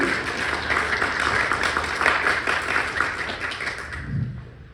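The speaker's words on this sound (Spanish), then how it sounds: "Un aplauso, por favor" An audience at an online lexicography workshop session claps in a steady, moderately loud round of applause that fades out near the end.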